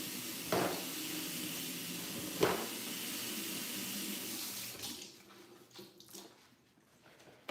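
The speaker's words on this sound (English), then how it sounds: "now I gotta wash my board because I don't want my board to be greasy" Tap water runs in a steady, loud close gush while a cutting board is washed under it, with a couple of knocks, then the flow stops and leaves quieter splashes and drips, no talk.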